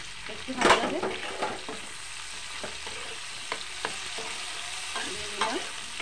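Potatoes with turmeric frying in a pan, a steady close sizzle broken by scraping stirs, with a louder burst of stirring near the start and lighter scrapes later.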